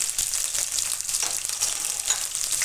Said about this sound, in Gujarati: તો તેલમાં આપણે પહેલાં જીરું નાખીશું, મરચાં લીલા